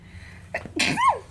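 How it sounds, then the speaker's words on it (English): A single sharp human sneeze, a quick indrawn breath followed by an explosive burst, close and clear in a quiet indoor room. "I've been sneezing, and that's rare."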